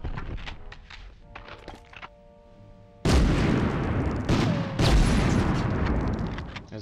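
Pistol gunfire in the Medal of Honor mission to sabotage the Rjukan hydro plant, several sharp shots with loud echoing blasts among quieter clanks and footsteps.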